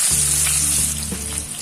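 Onions sizzle and crackle steadily in hot oil that was seasoned with dried red chili and cumin for a fish curry, a close, continuous frying hiss with no talking.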